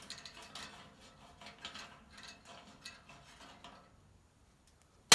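Fitting being unscrewed on a propane heater under repair, giving a run of small metallic clicks and scrapes at close range, followed by a short quiet pause and one louder clack at the end.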